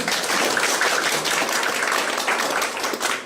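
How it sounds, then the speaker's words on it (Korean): Steady, dense applause from a forum audience at a startup networking event, continuous broadband clapping holding at an even level throughout with no voices on top. "박수 한번 우리 더 부탁드릴게요"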